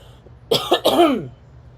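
One person gives a short, close cough in two or three rough bursts, closer to a throat clear, after a quiet moment, then the room goes still again.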